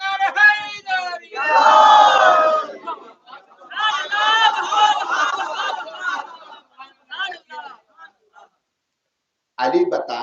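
A crowd at a Muharram majlis gathering shouts the religious chant Naara-e-Haidari in loud, rhythmic call-and-response bursts of many voices, separated by short pauses and ending with one more shouted burst.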